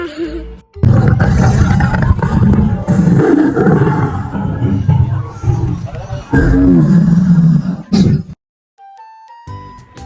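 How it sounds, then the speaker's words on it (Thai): A loud, rumbling animatronic dinosaur roar rises and swells over a noisy crowd with people talking at a zoo park in Taiwan, then cuts out, leaving faint chiming tones. "เดี๋ยวแชร์ฟังเสียงไดโนเสาร์จ้า"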